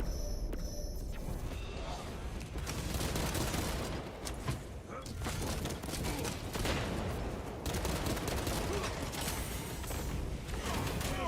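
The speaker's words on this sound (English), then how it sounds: "I shall support you with bolter fire." Bolter fire in the Space Marine 2 video game, a dense, loud continuous barrage of gunfire and battle noise running throughout, with player voices speaking over it.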